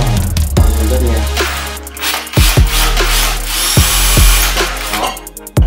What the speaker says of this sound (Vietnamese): Khoan luôn rất nhanh.